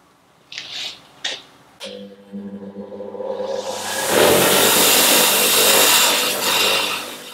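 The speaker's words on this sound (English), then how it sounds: "I'm going to pop them on the wire wheel first just to get the old stuff off" A bench wire wheel grinds old threadlocker off outboard fuel pump bolts. A few short contacts come first, then the wheel spins up to a steady loud hissing scour that holds close and continuous to the end.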